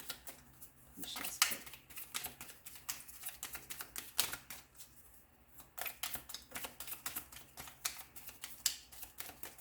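Rapid crisp snapping and riffling of tarot cards being shuffled, in bursts with short pauses, close and fairly quiet.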